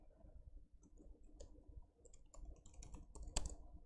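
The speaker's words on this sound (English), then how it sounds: "typing too fast." Fast, quiet typing on a computer keyboard fills the clip, with rapid irregular key clicks that grow busier toward the end and one sharper clack near the finish, with no voices.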